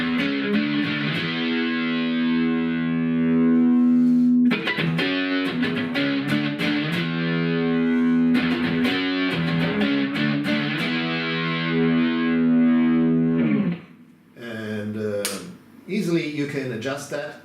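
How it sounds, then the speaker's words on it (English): Heavily distorted guitar tone through a Lexicon Signature 284 amplifier, chords ringing loud and sustained, then broken into short choppy strums toward the end, no talking. "you have quite a bit of distortion that you can generate"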